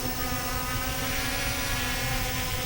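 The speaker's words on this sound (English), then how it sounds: "you can see with it just hovering there how stable it is" An Ameta S20 Lite camera drone hovers outdoors in a slight breeze, its propellers giving a steady, dense buzzing whine that stays constant and fairly loud throughout.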